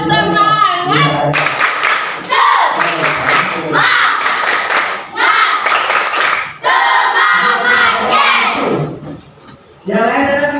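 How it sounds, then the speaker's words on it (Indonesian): A class of schoolchildren performing a rhythmic Indonesian clapping chant before a lesson, loud bursts of unison claps and shouted chanting in rapid patterns, with short pauses between phrases. "Sebelum mulai pelajaran, tepuk semangat dulu ya, biar semangat ya."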